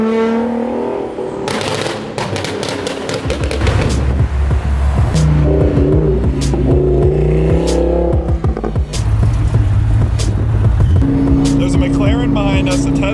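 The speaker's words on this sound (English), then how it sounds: "an M5 that sounds insane" A BMW M5 engine roars and revs loudly among other sports cars on a road trip, with shifting engine tones and bursts, while people talk over the noise.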